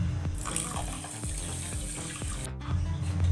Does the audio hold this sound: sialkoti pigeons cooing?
no